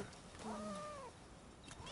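A small black cat with big white whiskers in Rise of the Ronin gives one soft, rising-and-falling meow in a city setting, followed by a brief quieter chirp near the end.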